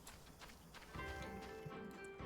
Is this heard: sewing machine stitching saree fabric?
no